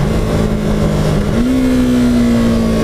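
A 2015 Yamaha R3 motorcycle engine holds a steady, loud drone, then its pitch steps up sharply as the revs rise and stay high, heard close up with no talking.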